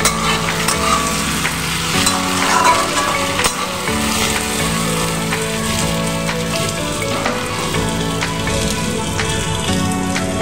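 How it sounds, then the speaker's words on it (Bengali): Tomato pieces frying with lightly fried gathi kochu (taro) in a pan make a loud, rain-like continuous sizzle with occasional stirring scrapes, close and free of talk. "এবার আমি দিয়ে দেব টমেটোর টুকরোগুলো।"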